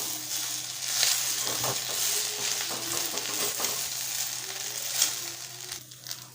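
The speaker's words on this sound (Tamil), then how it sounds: "ஒரு நிமிஷம் கருவேப்பிலையோடு சேர்த்து வதக்கிட்டோம்" Curry leaves sautéing in a hot kadai, a continuous close sizzle with soft repeated stirring scrapes running throughout, no voices over it.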